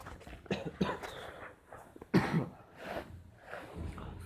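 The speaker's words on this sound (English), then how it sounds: "Sorry for the, I have a cough fever." A person with a fever coughs, a few rough, hoarse coughs and throat-clearing bursts spaced over several seconds, close to the microphone.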